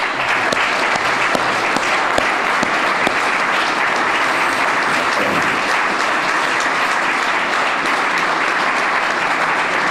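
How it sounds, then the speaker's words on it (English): Sustained, loud round of applause fills a banquet room at an awards dinner, many hands clapping steadily and close for the whole stretch with no speech. "can we give Jay a round of applause for all the meals that he's cooked?"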